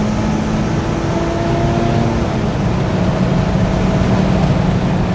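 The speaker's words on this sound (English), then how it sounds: "you can hear the engine is stressing right now" A 2024 Mazda MX-5 Miata ND3 engine drones at high revs near the top of the rev band, a steady strained hum with harmonic whine holding throughout, fairly loud and continuous.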